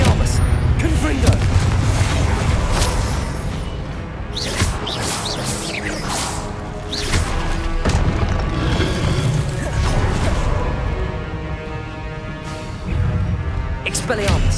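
Confringo blasting spells explode repeatedly in Hogwarts Legacy combat, loud booms and crashes arriving in quick succession over a dense bed of game effects, with voices speaking over them.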